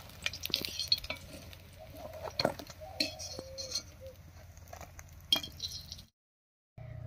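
Fried lentil fritters are lifted out of a pan with a utensil, bringing scattered metallic clinks and scraping taps against the cookware, a soft sizzle beneath, then a brief silence near the end.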